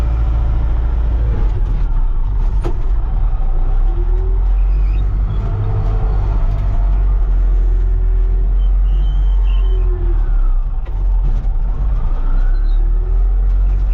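A truck engine runs steadily with a loud low-pitched drone and deep rumble throughout, faint tonal whines rising and falling over it, with no talking.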